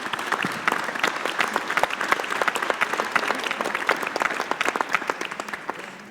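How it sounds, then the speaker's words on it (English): Conference audience gives a round of applause for the speakers at a Ukraine Recovery Conference session, a sustained, even patter of many hands clapping at moderate loudness, tapering off at the end. "join me in a round of applause for all our speakers"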